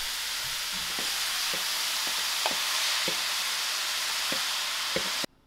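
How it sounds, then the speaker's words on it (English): Steady sizzling of cabbage frying in a pan on very low heat, with a few soft clicks of stirring scattered through, ending abruptly. "the cabbage has been frying on a very low heat."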